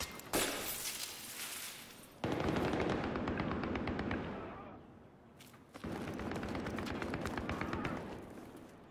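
Machine gun fire in a video game rattles off in long rapid bursts with brief gaps between them, loud and close, and a voice is heard briefly alongside it.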